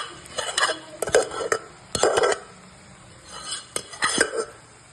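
Cooked green gram being stirred in ghee in a pan for cherupayar payasam, with irregular bursts of spoon scraping and clinking against the metal, close and moderately loud, with a faint sizzle between strokes.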